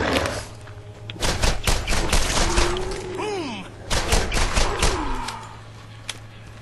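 Rapid gunfire in Borderlands, a cluster of sharp close shots in two volleys, mixed with whooshing game effects and a steady background hum.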